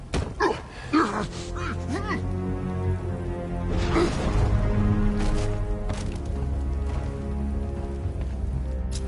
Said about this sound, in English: How come it's always raining these days?